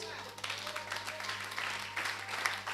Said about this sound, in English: Clap your hand for it.